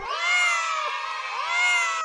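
Cartoon cat meowing in a long, loud, drawn-out call that rises and falls, with a second meow swelling near the end, heard alone without talk.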